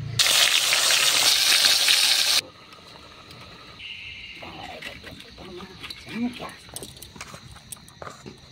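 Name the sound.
sona kanta fish frying in oil on clay stove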